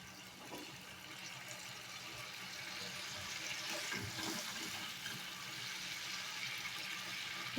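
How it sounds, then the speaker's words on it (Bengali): Water boils in a pan on a gas stove while a Bengali fish curry is being cooked. A faint, steady bubbling hiss carries on throughout with no talking. "জলটা ফুটে গেছে"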